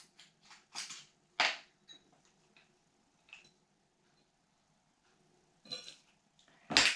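A spoon stirs olives with wine vinegar in a bowl, following a Roman recipe, making scattered sharp clinks and taps separated by quiet gaps.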